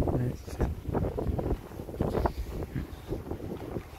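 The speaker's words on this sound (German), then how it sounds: "Ihr merkt auch, der Wind wird gerade sehr stark." Strong wind buffeting a microphone outdoors, a loud continuous rumbling roar with gusty surges, with a person talking underneath.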